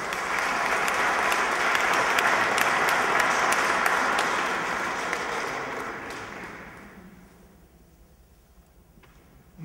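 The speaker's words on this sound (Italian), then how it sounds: "Applauso." Loud crowd applause at an event about a boxing club in Lumezzane, sustained for several seconds before fading away to near quiet.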